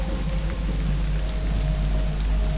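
Rain falls steadily and evenly, a constant close wash of patter with a low hum underneath and no voices.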